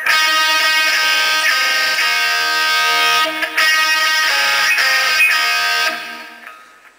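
Distorted electric guitar lead from a solo, a sustained, buzzy, harmonic-rich tone played steadily for about six seconds before fading out, with no talking.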